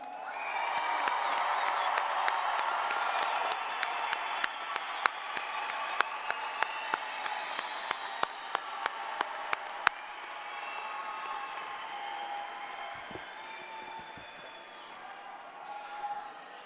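At a college commencement ceremony, a large audience applauds and cheers with whoops, loud at first and then thinning out over the last several seconds.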